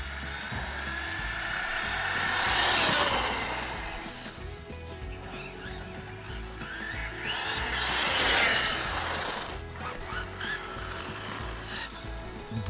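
A Tamiya Blitzer Beetle RC car with an upgraded motor runs at full throttle in a driveway, its whine swelling twice as it passes near and then fades, over faint background noise.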